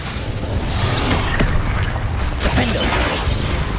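Incendio fire spells cast in Hogwarts Legacy on PS5, a dense, loud wash of whooshing booms and crackling bursts with no clear gaps, running continuously throughout.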